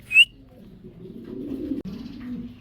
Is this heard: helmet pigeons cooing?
yes